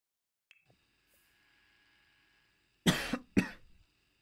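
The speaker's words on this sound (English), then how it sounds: "I got a cough today." Two sharp coughs close together near the end, loud against a quiet background with a faint steady electronic hum from a Sims 4 life-simulation game.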